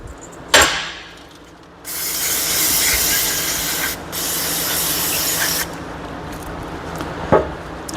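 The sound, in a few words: spraying solvent-based brake cleaner on car parts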